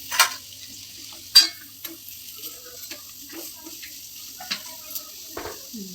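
Curry leaves dropped into hot oil for a Telugu-style nalleru stem chutney, giving a few sharp crackling bursts and then a low, steady sizzle with scattered pops, close by, with no talking.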